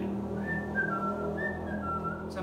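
A person whistles a short, soft melody of a few gliding notes, fairly faint over a low background hum.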